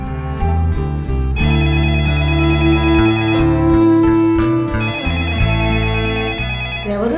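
A mobile phone plays a melodic ringtone for an incoming call, loud and continuous, its tune stepping through repeated phrases.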